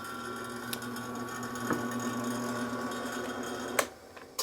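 A JET J2500 drill press drilling 1/8-inch steel angle iron gives a steady, moderately quiet motor hum and whine, broken by a few light clicks and knocks near the end.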